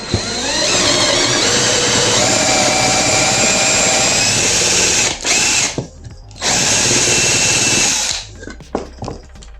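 A power drill whines steadily while boring half-depth dowel holes into wooden slats, a loud sustained buzz that cuts out briefly twice, then ends in a few scattered knocks and clicks.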